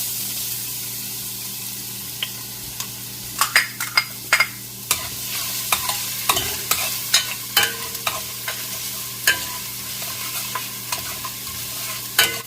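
Garlic sautés in cooking oil in a pan, a steady sizzle broken by frequent sharp clinks and scrapes of a utensil stirring, with no voices.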